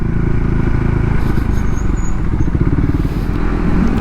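A superbike rides along a hill road on its way up to Yelagiri, engine droning low and steady at close range while the tires warm. A faint whine sits above the engine, and no one speaks.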